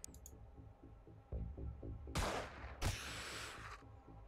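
Two loud gunshots in the game Xenonauts 2 in quick succession, each trailing into a long hiss, after a steady rhythmic low thumping; no voices.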